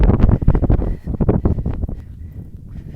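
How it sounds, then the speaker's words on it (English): Strong wind buffets the microphone in loud, rough gusts on an exposed Appalachian Trail ridge near Carvers Gap, easing slightly toward the end, with no one speaking. "It's so windy up here."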